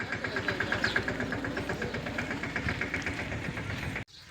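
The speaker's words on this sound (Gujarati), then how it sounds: "ટ્રેક્ટર લઈને જાવ." A tractor engine idling, a steady low rhythmic chugging with regular knocking pulses, close and fairly loud, running alone until it cuts off abruptly near the end.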